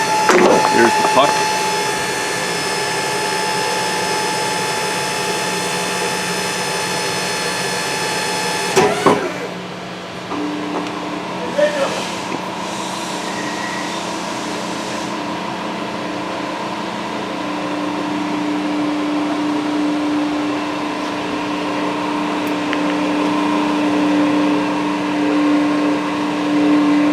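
An Amada CCP103H automatic chip compactor pucking machine running with a steady loud mechanical hum and whine, a brief clunk partway through as the cycle shifts, then a continuous drone with a higher tonal whine, under occasional speech.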